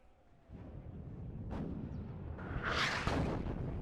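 Artillery firing high-explosive shells in the WARNO war game, a couple of distant muffled booms rolling out over a low ambient rumble, with a brighter blast near the end.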